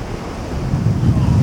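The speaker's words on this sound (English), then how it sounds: "The nor'easter churns up waves as high as 12 feet." Nor'easter storm waves churn around a sailboat at sea, a loud rushing wash with heavy wind buffeting the microphone, swelling louder over the short stretch.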